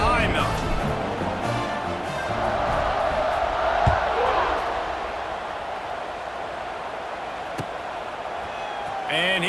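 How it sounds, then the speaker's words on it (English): A football stadium crowd roars at kickoff, a broad swelling cheer that builds and then eases, under a commentator talking throughout. "this crowd now ready to get behind them"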